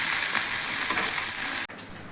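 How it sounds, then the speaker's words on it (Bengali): Small mixed river fish frying in hot oil in a wok, a loud bright sizzle that cuts off abruptly near the end, leaving quieter background hiss. "এরকম করে লাল লাল করে আমি ভেজে নিচ্ছি।"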